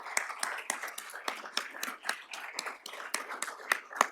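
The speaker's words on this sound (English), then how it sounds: "So let's please join me in a round of applause for them." Sparse clapping at a university lecture event, with separate hand claps landing at an uneven rhythm, fairly quiet and thin, as if only a few people in the audience are applauding.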